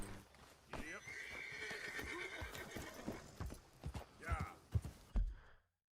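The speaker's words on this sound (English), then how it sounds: "Both my horses are here." Horses whinny and hooves clip-clop with a game-like sheen in the video game Front Mission 1st: Remake, while people talk over the sounds before it cuts to silence.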